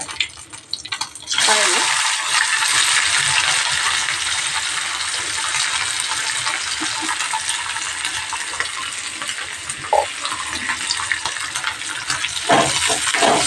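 Dried fish fry in a hot pan with a loud, steady sizzle that hisses continuously, with a few faint clinks near the end.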